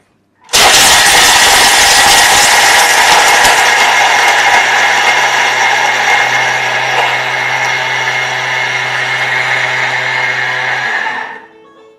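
A Thermomix mixer spins up to speed 9 for profiterole chocolate sauce, a loud abrupt high-pitched whirring roar held steady for about ten seconds before cutting off, close and without speech.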